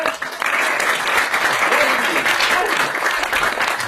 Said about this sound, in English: A round of applause for number 4 here.